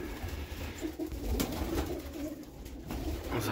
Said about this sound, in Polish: Także w zimę też mogą gołębie latać.